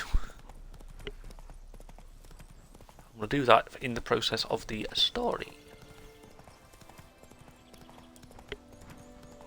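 Horse hooves clip-clop in The Witcher 3 for roughly two seconds of quick, close, rhythmic hoofbeats, with someone talking over the game sounds and quieter game audio before and after.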